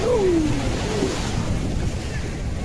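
Ocean waves and wind at Marina Beach make a broad, continuous roar of surf and gusting air, with a brief faint voice-like sound near the start.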